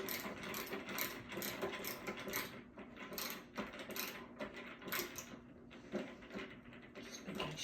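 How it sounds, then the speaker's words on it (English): Screws turned in by hand while a kitchen cabinet is assembled, a steady run of quiet close-up clicking and ratcheting ticks with small metallic taps throughout, no talking. "Screw these in by hand."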